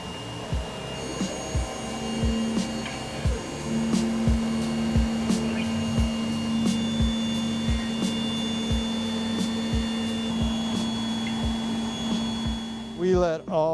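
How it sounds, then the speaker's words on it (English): CNC router machining a maple workpiece, a steady whining hum of the spindle with regular rhythmic thumps and clicks as the tool moves along its path, close and continuous throughout. "he's got it designed, you know, it's CNC, so he routers out this"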